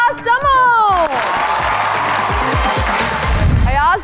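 A studio audience on a talk show applauds for about three seconds as actor Ayaz Samoo is welcomed, the clapping sandwiched between a host's speaking voice at the start and end.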